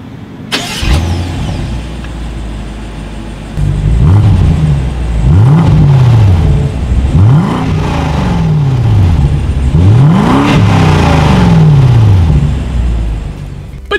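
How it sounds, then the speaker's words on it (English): A 2020 BMW 750i xDrive's exhaust in sport mode starts up, then revs repeatedly in sharp climbing blips that fall back to idle, loud and close with no talking. "And as always, here is that exhaust clip."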